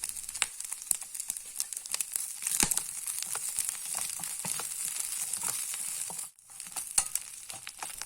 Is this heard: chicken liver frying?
yes